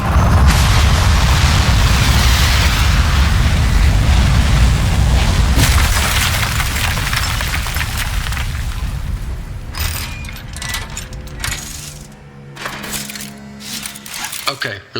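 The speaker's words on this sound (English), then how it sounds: "We are go for launch in 10, 9, 8, 7. Modesty panel set to flight configuration. 3, 2, 1. We have liftoff." A rocket lifts off in the video game Aperture Desk Job with a loud, roaring, crackling rumble that fills the first several seconds, then thins out into scattered mechanical clanks and softer rumbling as it fades.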